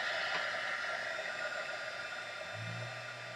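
A hair dryer running steadily to dry Smooch Spritz, giving a constant airy whoosh at moderate level, with no talking.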